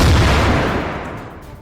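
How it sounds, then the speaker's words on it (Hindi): A car in Gaza blows apart from an air strike bomb, a loud, deep blast that rolls on and fades over a second or so. "पीछे चल रही कार में अचानक जोरदार धमाका हुआ"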